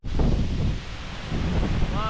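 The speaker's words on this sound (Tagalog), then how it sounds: "Lakas ng hangin natin ngayon." Strong wind gusts at an outdoor site with dug-up, laid-out ground, making a continuous low, rushing roar that buffets the microphone for the whole stretch, with a brief dip midway and no talking.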